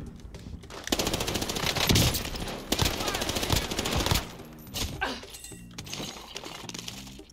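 Call of Duty Warzone gunfire bursts out in rapid automatic volleys, loud and close, followed by scattered single shots and game effects, with little or no talk.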